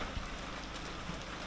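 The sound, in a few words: rain falling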